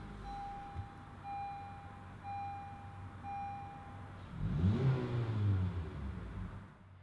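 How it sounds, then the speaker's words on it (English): A 2017 Honda CR-V LX sits with a chime beeping steadily, then its engine cranks and catches, settling into a low idle rumble, heard close from the driver's seat. "You just put it in and start it up."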